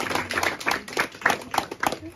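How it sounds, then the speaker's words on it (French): Scattered clapping from a small group at a wedding ceremony, uneven and fairly close, with voices talking over the claps. "Alors on va d'abord applaudir."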